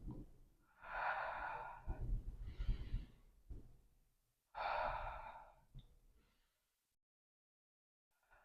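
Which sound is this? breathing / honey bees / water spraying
breathing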